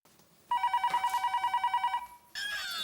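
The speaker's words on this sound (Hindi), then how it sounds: "इतनी रात गए किसका फोन आया वो?" A telephone rings late at night in a home: a near, moderately loud electronic trill in rapid repeating pulses for about a second and a half, then it stops.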